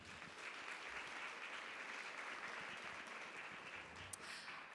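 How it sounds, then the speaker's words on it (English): An audience at an evening business-woman-of-the-year awards ceremony gives the finalists a sustained round of applause, steady, even clapping from a large crowd heard at a distance and fairly faint, with a brief sharp sound near the end. "all our finalists for tonight deserve a round of applause"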